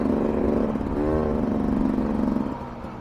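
A 2023 Beta 300RR Race Edition two-stroke dirt bike engine running a little sputtery, a loud, close, uneven idle-to-rev drone with a brief rising blip, then settling lower near the end.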